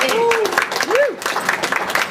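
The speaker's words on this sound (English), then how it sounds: "give one more round of applause" An audience at a barista championship applauds in a steady, dense patter of clapping. A voice speaks over it, and a couple of short whistles or cheers rise above the clapping.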